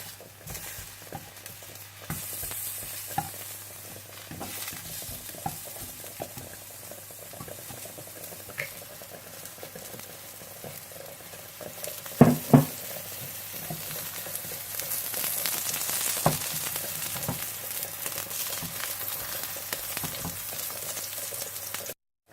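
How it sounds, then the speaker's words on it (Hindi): Eggplant slices frying in a shallow layer of oil for baingan borani, giving a steady close sizzle and crackle that swells louder toward the end, with a couple of sharp knocks midway. "एक साइड पकने के बाद आप इसकी साइड चेंज कर दें और थोड़ा थोड़ा तेल डालकर आप फ्राई करते जाएं।"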